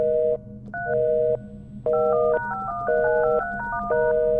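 Telephone keypad tones beep in a quick sequence of short and held pitches as a call to the police is dialed in the video game LUTO, clear and alone without talk.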